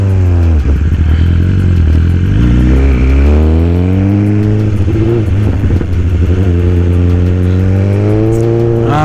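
A 2020 BMW motorcycle revs hard during a wheelie attempt, its engine note climbing in repeated loud surges with a clattering edge, heard up close and alone.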